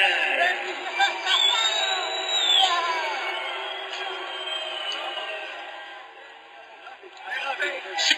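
MMA arena crowd reacting to a unanimous decision in a Pro Elite fight, a distant murmur of chatter and scattered shouts under an announcer's voice, swelling briefly and fading.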